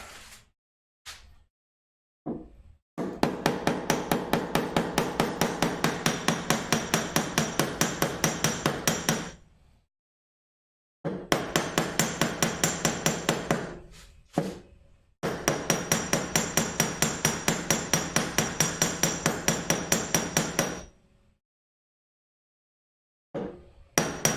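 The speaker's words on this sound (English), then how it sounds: "And the claw hammer." A claw hammer striking wood while building a shadow box, in long bursts of rapid, evenly spaced loud blows separated by short pauses, close and without talk.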